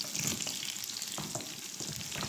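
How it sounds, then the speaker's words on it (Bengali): Onions and panch phoron frying in oil in a pan, with a steady close sizzle and occasional scrapes and knocks as they are stirred, no voices. "পেঁয়াজ আর পাঁচফোড়ন হচ্ছে দিয়ে দিছি, এখন হচ্ছে একটু নাড়বো।"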